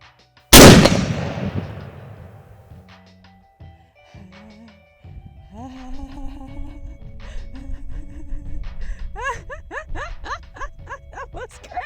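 Gunfire from the Battlefield 1 game trailer, a classic 1911 pistol: one sharp, very loud shot rings out and decays, followed by quieter clanks, tonal effects and a rising busy mix of battle sounds.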